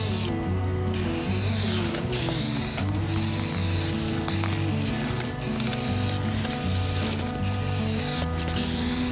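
An aerosol spray paint can hissing as a light first coat goes onto faded, cracked RV vinyl decals, long steady bursts broken by short pauses, with mechanical rattling and clicking underneath.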